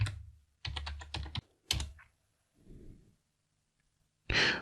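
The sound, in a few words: typing a password on a computer keyboard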